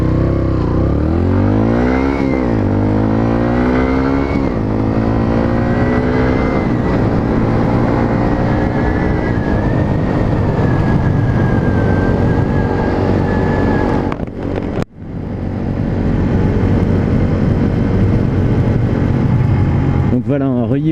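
A Bullit Hero 125 motorcycle rides with a steady, loud engine drone and rising and falling revs, wind rushing over the microphone and a brief dip as the throttle is cut, then the drone returns.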